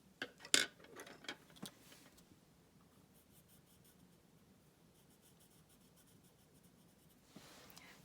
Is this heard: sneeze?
no